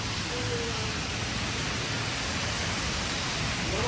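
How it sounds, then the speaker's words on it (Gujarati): Heavy monsoon downpour pours steadily, a dense continuous hiss of rain loud and close with no letup, faint voices barely present beneath it. "મુશળધાર વરસાદ ચાલુ થઈ ગયો"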